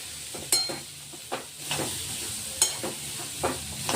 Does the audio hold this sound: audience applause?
no